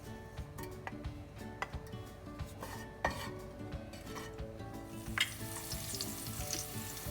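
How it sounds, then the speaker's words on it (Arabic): Chopped garlic fries in olive oil in a pan with a steady close sizzle. A few utensil clicks and stirring scrapes sound against the pan, and the frying grows brighter and louder near the end. "وقلي فيه توم مقطع ناعم"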